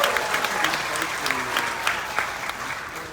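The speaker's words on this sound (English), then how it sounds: "everybody give Ed a big round of applause" A cruise ship audience on the Carnival Spirit claps for a volunteer during a magic and comedy show, dense sustained applause from a crowd with a few voices mixed in.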